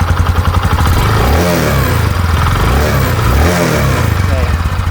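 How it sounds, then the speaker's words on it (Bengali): A used Bajaj Platina 110cc or Honda SP Shine 125cc motorcycle engine starts and runs steadily close by, a throbbing exhaust note with rhythmic swells, under someone talking throughout. "দেখেন গাড়ি স্টার্ট দেওয়া হচ্ছে"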